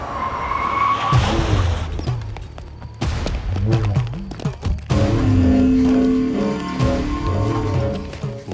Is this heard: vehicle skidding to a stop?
yes